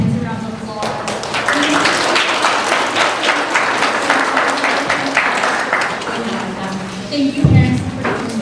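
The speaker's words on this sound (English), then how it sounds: "give your parents a round of applause" Teams at a high school girls' soccer banquet applaud their parents, a full room of clapping rising quickly and holding steady, with voices and a brief cheer mixed in near the end.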